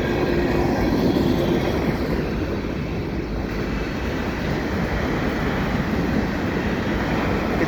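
A CN freight train hauling brand-new hopper cars passes a footbridge on Des Sources Boulevard in Dorval, Montreal, in a loud, steady rumble and clatter of wheels that fills the whole stretch.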